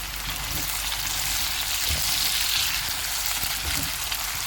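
A medium-size tomato fries with softened onions in a pan for a breakfast potato curry, giving a steady hissing sizzle with a few soft stirring knocks.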